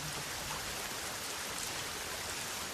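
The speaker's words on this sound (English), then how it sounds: "Pause and listen to the rain." Steady, dense rain falls in a forest, an even hiss of drops on leaves and ground with no pauses or voices.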